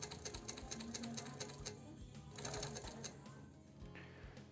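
An industrial three-needle feed-off-the-arm sewing machine runs in short, rapid clattering bursts, fairly quiet, while someone speaks Spanish over it.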